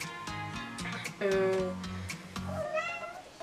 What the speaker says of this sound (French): Ça c'est mon chat, Nemo, viens.